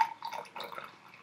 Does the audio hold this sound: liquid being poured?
yes